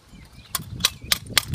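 Holes are punched into a can for a DIY penny stove, four sharp metallic pops spaced roughly evenly apart, close and crisp, with quiet handling noise between them.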